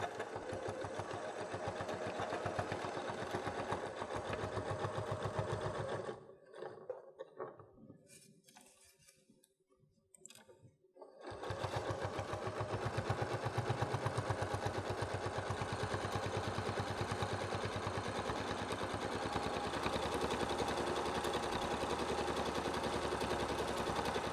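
Sewing machine stitching a quilted heart pot holder and back tacking, a fast mechanical whirring that stops for a few seconds partway through, then resumes steadily and close.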